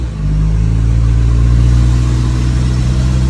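Isuzu D-Max pickup with a 4JK1 engine and five-speed gearbox pulling away on a test drive, a loud, steady low engine drone heard from inside the cab, with no talk.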